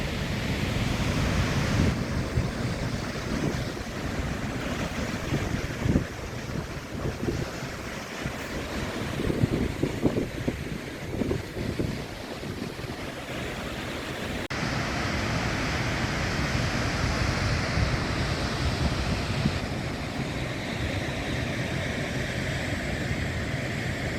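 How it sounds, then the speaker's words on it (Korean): The Yellowstone River falls as a waterfall between cliffs in Yellowstone National Park, Wyoming, a loud, steady broadband roar of rushing water heard from a distance, with some wind buffeting, continuous throughout and without speech. "옐로스톤 리버가 이렇게 폭포가 돼서 흘러가고 있습니다."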